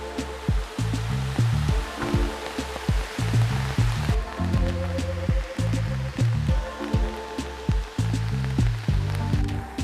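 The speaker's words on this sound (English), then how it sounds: "Really raining good." Heavy rain pours down on a farm in a dense, continuous patter, with irregular drips and splashes striking nearby surfaces.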